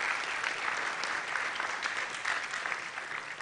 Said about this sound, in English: Another round of applause for her, ladies and gentlemen.